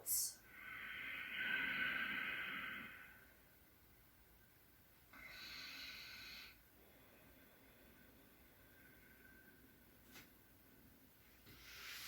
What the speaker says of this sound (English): Deep breaths in, deep breaths out.